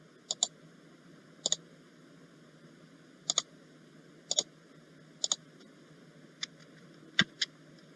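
A computer mouse clicks in quick paired taps, roughly eight times at irregular intervals, crisp and close, over a low steady hum.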